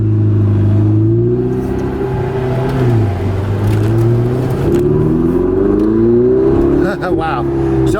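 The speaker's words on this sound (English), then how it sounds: "so far you can feel this turbo motor. This car really moves." A Ferrari 488 Spider's turbocharged engine pulls hard, its loud, close drone climbing and dipping in pitch through the revs with a steady, forceful whine.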